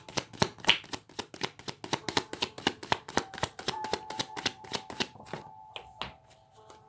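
Tarot cards being shuffled by hand, a quick run of crisp, evenly spaced riffling flicks that slow and thin out toward the end, close and alone.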